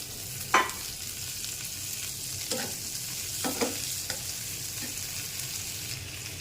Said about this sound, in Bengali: পেঁয়াজটা ভাজা দিয়ে দেবো।